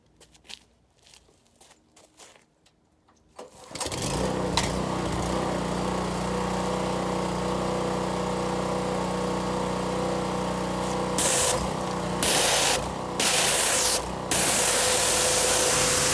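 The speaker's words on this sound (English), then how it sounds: "I'm going to hit this strip with the power washer, get some of this debris out" A power washer starts up and blasts debris off a 1991 Lotus Esprit during restoration, a few quiet shuffling sounds giving way to a loud, steady roaring hiss of spray, briefly cutting in and out near the end.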